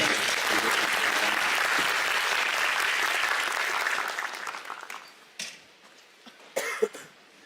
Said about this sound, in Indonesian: Kita beri tepuk tangan untuk Pak Dubes